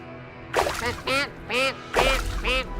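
Several loud, raspy cartoon duck quacks in quick bursts, close by, with short pauses between calls and no talking.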